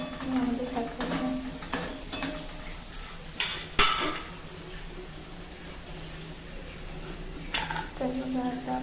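Egg and green pea mixture stirred and sautéed in a pan, with repeated scraping and clinking of a spoon against the metal pan over a soft low sizzle, steady and close throughout.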